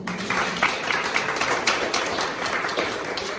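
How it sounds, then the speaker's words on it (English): A crowd applauds steadily, a dense patter of many hands clapping at once without pause. "Round of applause for Vito, please."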